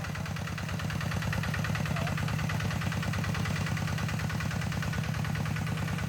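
A Kubota RT90 walk-behind tractor with a two-disc plough and steel wheels chugs steadily while plowing, its single-cylinder engine thumping in a fast, even low pulse throughout.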